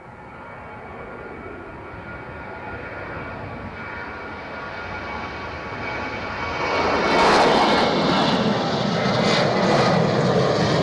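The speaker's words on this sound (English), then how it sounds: "We do have an aircraft on final approach as well" Airliner on final approach to land at Edinburgh Airport, a steady engine roar that swells louder partway through as it passes close, heard outdoors with no talk.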